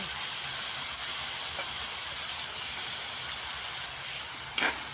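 Egg curry masala with coconut roasts in oil in a pan, giving a steady close sizzling hiss with a faint scrape of stirring near the end.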